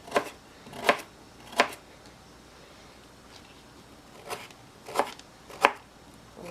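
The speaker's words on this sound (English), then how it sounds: "we're just going to chop our carrots" A knife chops carrots on a cutting board in a few sharp, separate strokes with pauses between them, fairly quiet and close.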